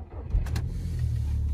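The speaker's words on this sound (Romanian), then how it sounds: "Ia să vedem un cold start." A car engine cold-starting from inside the cabin, a brief crank catching at once into a steady, loud low idle rumble that holds evenly to the end, with no talking.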